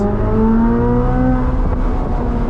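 Engine of a 2023 Chevrolet Corvette Z06 accelerating through the gears on a scenic road, with a loud, close, rising tone that holds before easing slightly. No voices are heard.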